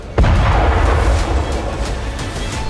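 A rocket hits a second Israeli tank in a sudden sharp explosion, followed by a sustained heavy rumble and crackling roar that fades only slightly over the next two seconds, with no talking.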